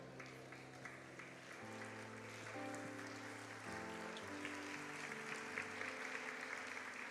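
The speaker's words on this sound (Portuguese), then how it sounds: "Pode aplaudir o Senhor também." A church congregation applauds softly at a distance while sustained keyboard or organ chords shift underneath, the clapping a continuous rain-like patter throughout.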